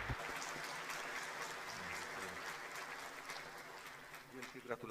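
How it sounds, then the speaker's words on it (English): Audience at an academic-year inauguration ceremony applauding award-winning students, soft, steady clapping from a distant hall crowd lasting several seconds. "Let's applaud the awarded students."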